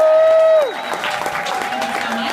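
Applause from an audience at an MCA Day tribute to Adam Yauch in New York City, a steady mid-level clatter of many hands that continues under a fading tone and some background noise.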